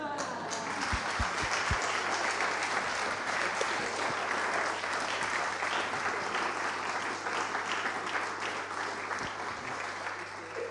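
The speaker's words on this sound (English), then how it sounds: "We're going to clap." A church congregation claps together during a worship service, a dense, steady wash of hands that carries on without a break for about ten seconds.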